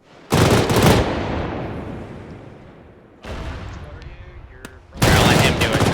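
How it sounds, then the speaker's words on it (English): Gunfire in a video game aimed at an AA gun: loud bursts of rapid automatic fire that come in three waves and fade between them, close and dominant. "They're shooting at my my AA gun."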